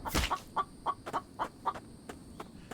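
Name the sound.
chickens clucking in The Infected video game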